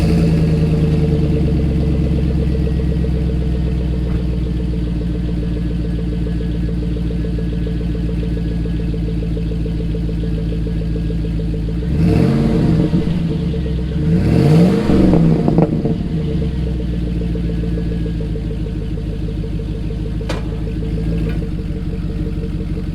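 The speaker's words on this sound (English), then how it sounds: "So I got the truck all pulled in the garage backwards" An LS truck engine idles with a steady, close rumble, then revs twice in quick succession as the truck backs into a garage, settling back to idle.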